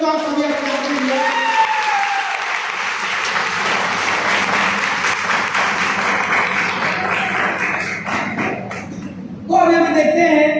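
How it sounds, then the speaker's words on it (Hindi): An indoor audience at a direct selling motivational speech bursts into loud, sustained applause, dense clapping that holds for several seconds, tapers off, then rises again briefly near the end. "एक बार जोरदार ताली बजाएं दोस्तों आप सभी अपने आप के लिए"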